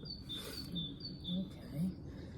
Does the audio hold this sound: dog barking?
no